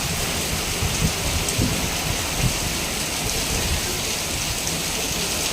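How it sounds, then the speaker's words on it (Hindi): Heavy rain pours steadily in a continuous dense hiss, close and loud, with scattered heavier drops and low rumbles beneath. "अभी बहुत ज़ोरों की बारिश हो रही है, बहुत ज़ोरों की।"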